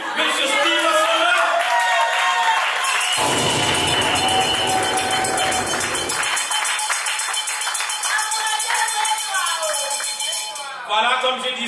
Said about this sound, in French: si on peut applaudir pour lui, monsieur Steve Assola